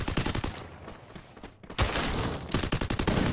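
Rapid bursts of gunfire from the Garena Free Fire battle game, loud and close, with a brief drop-out midway before the volleys resume, dense and sustained.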